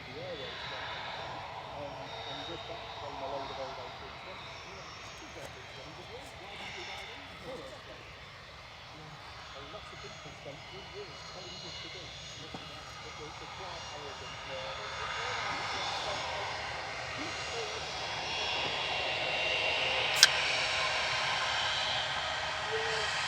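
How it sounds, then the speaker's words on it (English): Airbus A320-200 jet taxiing out at Manchester Airport, a steady engine whine and rumble that slowly swells louder toward the end, with voices talking over it. "One in taxiing out, heading off to Barcelona, A320-200, EC MKN"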